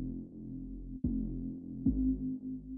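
A dry synthesizer tone runs only through a filter with no distortion in Bitwig Studio, a low sustained buzzy note that pulses and retriggers with a sharp attack twice, alone without talk.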